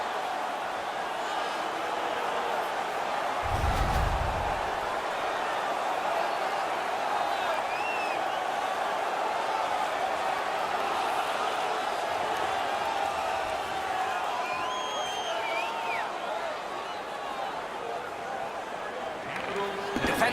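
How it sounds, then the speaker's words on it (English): A hockey crowd cheering after a fight at a Toronto Maple Leafs versus Washington Capitals game: a sustained, broad arena roar runs throughout under steady commentator talk, with a brief thump early on. "The crowd is ecstatic."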